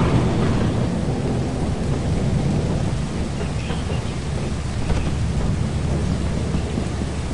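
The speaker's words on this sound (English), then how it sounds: "it's raining. Thundering, damn near." Low rolling rumble of thunder with a steady wash of rain in a video game, continuous and fairly loud, with no talk.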